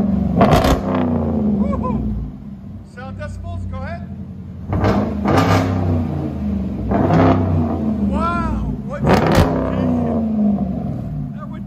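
A Dodge Durango R/T with a 5.7L HEMI V8 and aftermarket exhaust revs repeatedly in sharp rising and falling bursts, loud and close, with people talking over and between the revs.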